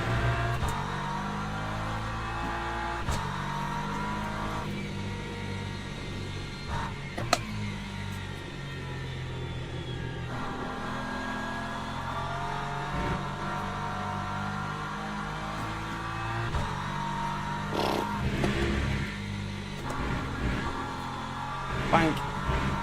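Race car engines in Le Mans Ultimate hum steadily throughout a multiclass race, with shifting engine tones and a passing LMP2 prototype, while a voice talks over the continuous drone.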